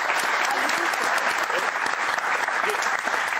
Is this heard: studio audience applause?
yes